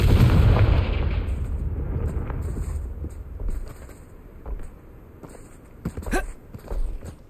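A Confringo blasting spell explodes in the video game Hogwarts Legacy with a heavy, booming burst that rolls off into a long rumbling decay, followed by scattered crackles and small debris pops.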